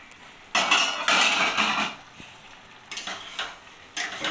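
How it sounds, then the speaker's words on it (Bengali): A lid comes off a cooking pan of egg chana curry: sharp metallic clatters and scrapes of pot and lid in a few loud bursts, with quieter rattles and gaps between them. "ঢাকাটা খুলে দেখে নেব।"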